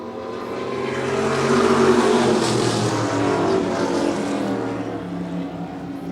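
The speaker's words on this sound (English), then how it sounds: "In a 1936 Chevy Coupe, your new leader is Bob Guyan in the number 38" A 1936 Chevy Coupe race car, number 38, roars past on an oval track, its engine note rising to a loud peak near the middle and then holding a steady drone as it runs on.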